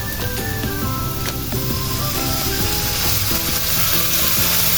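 Bagoong balayan shrimp paste sautéing with onion in a pan, a dense, loud, steady sizzle with scraping stirs running throughout, up close and with no voices.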